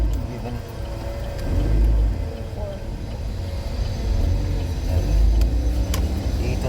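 Cars drive along a busy road in slow traffic, a loud continuous engine rumble with swelling passes, while people talk over it.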